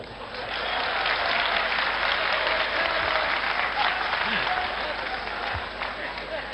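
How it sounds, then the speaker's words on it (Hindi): Sustained applause from a large audience at a comedy performance during the Simhastha Kumbh in Ujjain, dense steady clapping that holds loud for several seconds with some crowd voices mixed in. "आप समझ जाएंगे तो ताली बजा के बताइएगा।"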